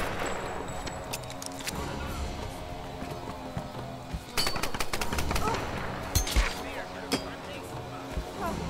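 Pistol and other gunfire in the Tomb Raider 2013 multiplayer team deathmatch, sharp repeated shots in irregular bursts over a busy game soundscape, with someone talking at times.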